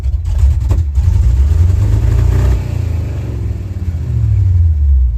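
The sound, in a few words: old International Harvester engine revving at full throttle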